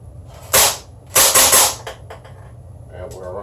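A gas blowback gun fires in short full-auto bursts, sharp loud cracks in two quick groups, followed by faint mechanical clicks with no talking.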